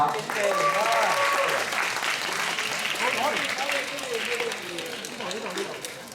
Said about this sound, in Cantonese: 大家俾張掌聲呢個小朋友